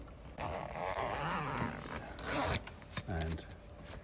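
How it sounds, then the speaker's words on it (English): A big chunky zip on a mobility scooter canopy windshield is pulled closed in a couple of quick, close rasping strokes, fairly quiet, with brief soft rustling around it. "And then you zip that up."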